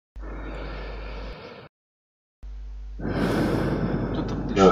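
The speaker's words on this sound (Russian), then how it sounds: "Кто там дышит?" Someone breathing into a voice chat microphone, with a couple of close, rough breaths and exhales and a short silent gap between them, and no speech.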